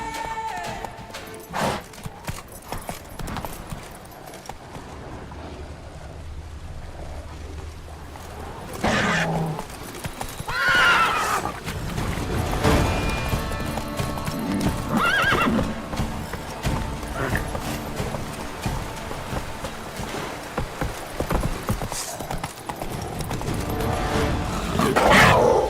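Roach the horse gallops in The Witcher 3: Wild Hunt, with rhythmic hoofbeats building from quiet, sparse steps to louder, busier galloping, mixed with game ambience, occasional whinnies and scattered in-game sounds.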